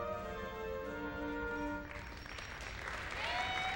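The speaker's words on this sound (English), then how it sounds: "the crowd applauds" Crowd applause at a home women's basketball game in a gym, a steady wash of clapping that swells and grows louder toward the end.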